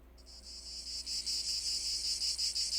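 A dense insect chorus of cicadas, a steady high buzzing that swells slightly in pulsing waves, fairly faint but continuous with no voices.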